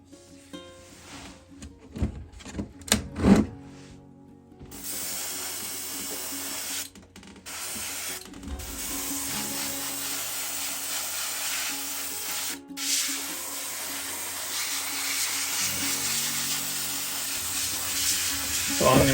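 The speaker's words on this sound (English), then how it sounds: "I'm going to go ahead and lay down the rest of the paint on this while it's still wet in my airbrush" An airbrush lays thinned paint onto an HO scale model railroad lava rock breakwater, first in short hissing bursts, then as a long steady spray hiss, heard up close.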